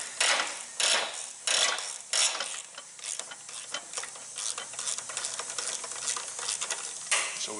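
Screw being worked loose from a Briggs and Stratton small engine, with repeated ratcheting clicks and scraping metal bursts close up, steady and busy throughout with no talk.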